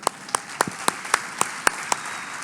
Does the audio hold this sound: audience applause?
yes